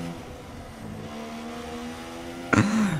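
A Formula 1 race car engine in the F1 2016 game, qualifying at Abu Dhabi, holds a steady loud whine, then spikes into a sharp, rising burst near the end.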